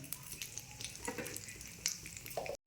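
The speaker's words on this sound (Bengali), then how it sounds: "একটা শুকনো লঙ্কা দিলাম আর কালো জিরে ফোড়ন দিলাম" A dried red chilli and nigella seeds temper in hot oil, a faint, even crackle and sizzle with a few light pops and clicks, quiet and close with no voices.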